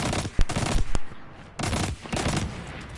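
Automatic gun firing in Destiny 2: Forsaken, rapid loud bursts of shots in two clusters separated by a short pause, punchy and close.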